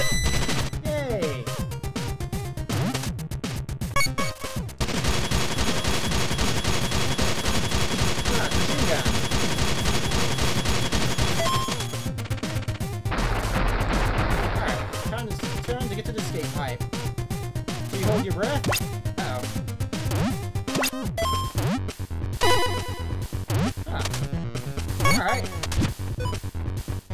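Rapid bursts of retro video game gunfire from Retro City Rampage, dense volleys and crashes repeating throughout, with a voice talking over the action.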